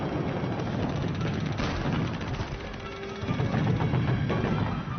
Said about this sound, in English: More explosions followed,